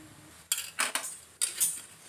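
Metal wok set down on a lit stove and oil ladled in while cooking bitter gourd curry, heard as a few sharp clanks and a brief splashy pour, close and clear with no talking.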